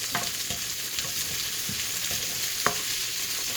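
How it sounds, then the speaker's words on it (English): Garlic and pepper sizzle steadily with onions in a hot pan, a continuous close frying hiss punctuated by light scraping stirs, with no talking. "I'll add the garlic and the pepper and saute that for about a minute."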